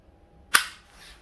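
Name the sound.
trigger break and reset click of EMG Hudson H9 airsoft pistol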